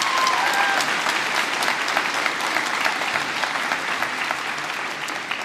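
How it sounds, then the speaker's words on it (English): Loud, close applause from the audience at a school graduation ceremony, dense clapping that holds steady for several seconds and fades slightly toward the end, with no talking. "So give a round of applause for our Parents' Council,"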